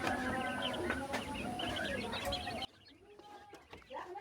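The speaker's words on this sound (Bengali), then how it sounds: "আপনারা দেখুন কোয়েল পাখি।" Quail call repeatedly with short, chirpy, clucking bird notes up close, loud at first and then quieter and sparser after a sudden drop in level.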